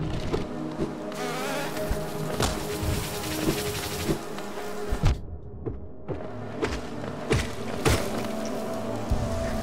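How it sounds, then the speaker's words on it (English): Bees buzz loudly and continuously in the Hollow Knight game, a dense droning swarm close by, broken by a few thuds and game hits and one brief dropout midway. "So many bees!"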